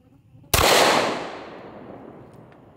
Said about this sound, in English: This is a very powerful handgun round, and we're shooting it out of the Glock 20.